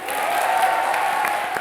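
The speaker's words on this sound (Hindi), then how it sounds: "जोरदार तालियां" Audience applause on a Comedy Circus stage, steady broadband clapping from a crowd that holds at an even level through the whole moment, with no talk over it.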